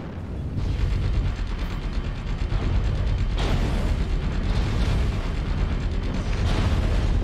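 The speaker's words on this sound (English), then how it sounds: "I can't hear you with machine guns running" Piranha mech's machine guns in a video game fire a long, continuous, loud roaring stream with heavy low-end booms, nearly unbroken throughout, no voice over it.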